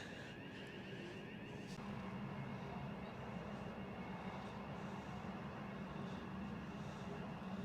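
An airliner sits at a gate at Sydney airport, giving a steady, distant jet engine rumble and hum over continuous terminal and apron ambience, with no clear talk.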